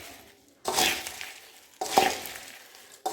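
Snack ingredients including coconut and groundnut being mixed in a bowl, two bursts of scraping and stirring with light clinks against the bowl, close and fairly quiet.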